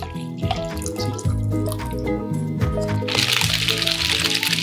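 Ice water is poured into palm fruit paste, giving a close, trickling splash with drips and sloshing that swells into a fuller pour toward the end, and no one speaks.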